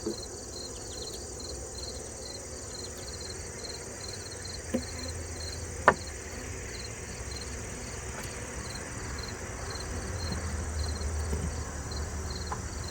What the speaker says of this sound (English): there's a lot of robber bees coming in